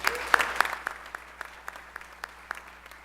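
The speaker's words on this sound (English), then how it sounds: "Let's give them a round of applause." Audience applause at a high school National Honor Society ceremony, a brief round of claps that starts fairly lively and thins out to scattered, fading claps.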